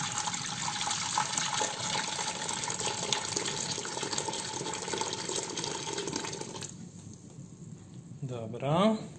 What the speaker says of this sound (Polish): Zalewamy teraz mozzarellę